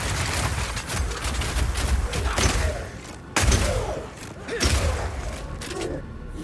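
Rapid Shot firing permafrost ammo in Path of Exile 2 gives dense, continuous rapid-fire bursts with heavy thumps and crackling impacts, loud and close throughout combat.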